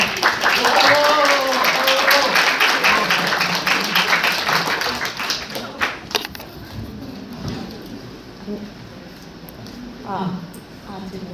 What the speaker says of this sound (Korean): 큰 박수로 박유미 대표님을 모셔보도록 하겠습니다.